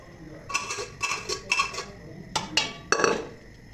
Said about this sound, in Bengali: মাংসটা খুলেছি প্রেশার কুকার থেকে, আলুটা আর মাংসটা দুটোই সিদ্ধ হয়ে গেছে। এবার আমি এই হাঁড়ির মধ্যে ঢেলে দেবো।